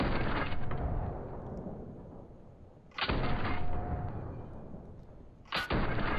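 Two heavy gunshots ring out in the battle royale game PUBG, each a sharp loud crack a few seconds apart followed by a long rumbling decay, with no talking.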